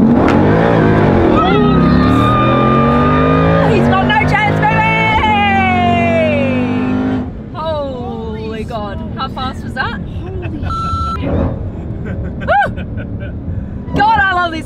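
A car accelerating hard during a street race rematch with three people aboard, its engine revving loud and close through rising gear-like sweeps, then settling into a steady high-speed drone, with occasional voices inside the cabin.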